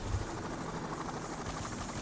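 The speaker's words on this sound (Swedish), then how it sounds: "Helikopter ovanför oss." Helicopter hovering overhead in the video game Payday, a steady loud rotor drone with continuous broadband wash that holds throughout, no talk over it.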